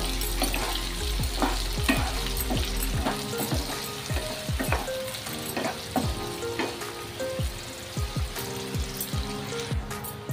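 Three small chopped onions fry in a pan, a loud continuous sizzle broken by a rapid series of spatula scrapes and knocks as they are stirred, close up.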